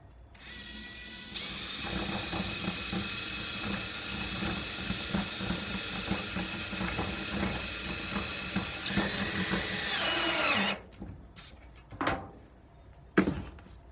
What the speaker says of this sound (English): I will just screw directly through the metal and into the wood